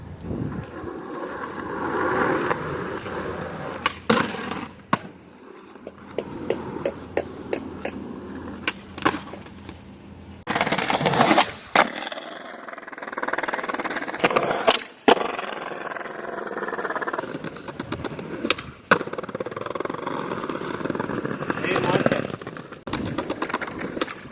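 Skateboard on Bones 99a V3 natural-look wheels rolling over rough ground, a steady gritty roar with sharp clacks and pops from tricks and landings, some wind buffeting the microphone, no talk.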